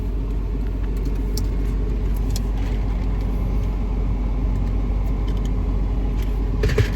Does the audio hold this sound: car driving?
yes